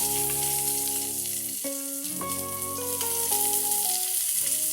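Chopped onion fries in hot coconut oil in a pan, producing a steady bright hiss that sits under a prominent melodic tune.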